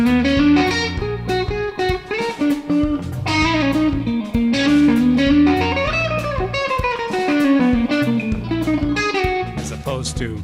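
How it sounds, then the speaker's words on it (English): B melodic minor scale played on an electric guitar with distortion, a fast run of distinct notes rising and falling, close and clear with no talking. "But B melodic minor sounds like this."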